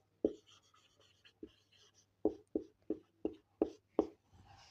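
A pen taps and scratches out a maths solution on paper, several distinct strokes in quick succession after a few scattered marks, close and quiet with no talk.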